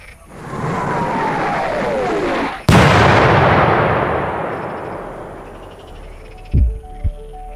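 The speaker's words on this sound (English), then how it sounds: "Bring out the cannon!" A cannon is fired in a staged rebellion scene: a descending whistle gives way to a sudden loud blast whose rumbling roar slowly fades, followed by a couple of muffled thumps near the end.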